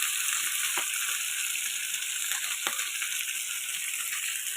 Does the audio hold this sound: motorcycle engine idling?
no